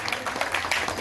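An audience at a Bihar cultural programme of dance-drama at Simaria Dham breaks into a short burst of loud clapping that lasts about a second, with a speaking voice faintly mixed in.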